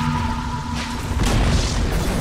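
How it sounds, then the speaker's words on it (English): A tower collapsing in the Dota 2 video game, a loud low booming crash with rumbling debris lasting about two seconds, heard alone. "Dire's bottom tower has fallen."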